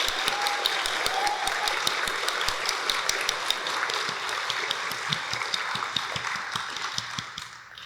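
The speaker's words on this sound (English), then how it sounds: "Graduates, please join me in giving a round of applause for your exceptional leaders." Audience applause at a nursing pinning graduation ceremony in a large hall, sustained clapping with individual sharp claps standing out, fading slightly at the close; no speech over it.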